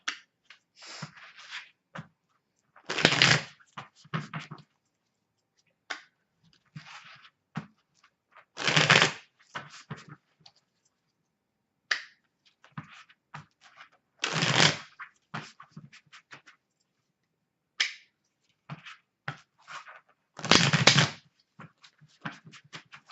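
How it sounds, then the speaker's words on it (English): A deck of tarot cards is riffle-shuffled up close in short bursts, with four loud shuffles spaced a few seconds apart. Softer taps and slides of handling fill the gaps, and nobody speaks. "Just a couple more shuffles here, and then we'll get started."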